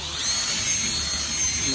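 Steady, high-pitched whine of a power drill drilling holes to fit a front lip spoiler on a BMW 1 Series E82 coupe, running continuously at close range, with a low rumble underneath.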